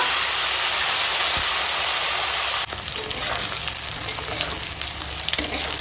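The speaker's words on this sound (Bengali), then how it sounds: "এখানে তেল গরম হয়ে গেছে ফুলকপিটা ভেজে নেবো" Cauliflower pieces frying in hot oil, a loud continuous sizzle and hiss that softens slightly after a few seconds as stirring and clinks continue close by.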